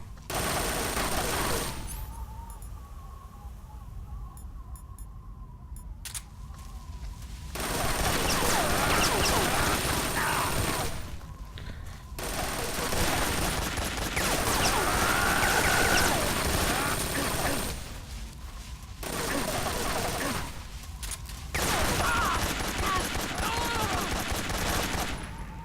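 Gunfire in the Metal Gear Solid 3 video game, several long, loud stretches of sustained automatic fire broken by short quieter gaps, set against a dense game soundtrack.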